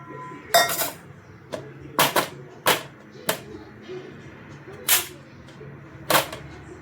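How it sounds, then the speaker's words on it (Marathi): Potatoes being cut with a knife on a board, a series of sharp separate chops and clinks at irregular intervals, about eight strikes over a quiet room background. "बटाटे आपण कापून घेत आहोत।"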